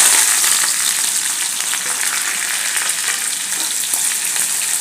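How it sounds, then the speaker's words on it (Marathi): Finely chopped onion and curry leaves sizzle steadily in hot oil in a kadhai, a loud, close, continuous frying hiss with no break. "आता हे तेलात घालूया."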